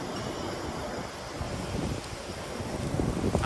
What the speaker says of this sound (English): It's kind of windy. I hope you can hear me.